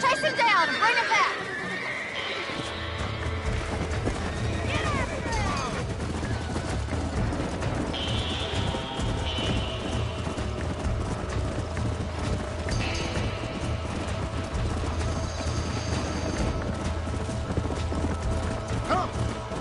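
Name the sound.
horses galloping and neighing in Red Dead Redemption video game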